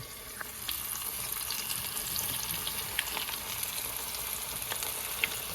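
Flour-coated ribs deep frying in hot oil give a steady, soft, crackling sizzle, with occasional small pops rising above the continuous hiss.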